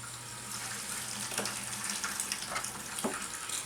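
A DIY battery-powered camp sink faucet runs water in a steady, close hiss, with a few faint clicks and splashes over a low background hum.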